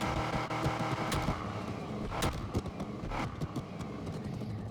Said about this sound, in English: Alright, so here is the car sound then.